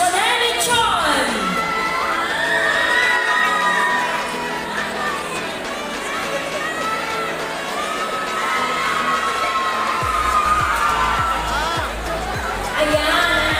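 A crowd cheers, whoops and shouts continuously at the Mr. and Miss PIDA 2024 pageant, loud and dense throughout with children's high voices and chatter mixed in.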